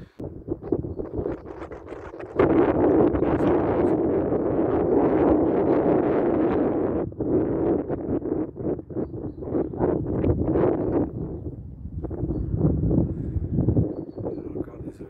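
Wind gusts roar across the microphone atop a castle keep in windy upland country dotted with wind turbines, building after a quieter start into a steady, loud buffeting with brief lulls.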